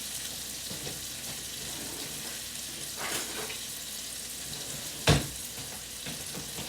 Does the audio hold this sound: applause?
no